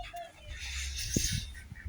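Chickens cluck softly nearby with a brief sharper squawk, over low rumbling and shuffling noise.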